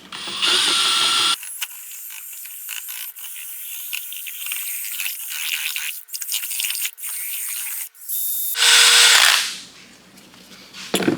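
A power drill mixing epoxy floor coating in a hot shop gives a loud, steady, close whirring whine that drops briefly twice, then winds down near the end.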